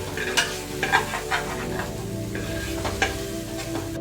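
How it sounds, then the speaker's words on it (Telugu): Cut okra sautés in a cooker over medium flame while being stirred, producing a close sizzle with several distinct scraping strokes early on that settle into softer frying. "ఈ బెండకాయల్ని రెండు నిమిషాలు మీడియం ఫ్లేమ్లో కలుపుతూ మగ్గించుకుందాం"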